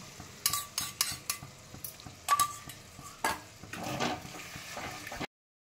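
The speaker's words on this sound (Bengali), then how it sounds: "এবার আমি এই মশলাটা ভালো করে কষিয়ে নেব" A spatula stirs and scrapes spice masala with whipped sour yogurt in a pan, with irregular sharp metal strokes over a soft, low sizzle, close and fairly quiet.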